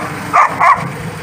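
A puppy barks twice in quick succession, agitated at a compact 25-horsepower hydrostatic tractor; the two sharp, fairly close yelps stand out over a low steady background hum.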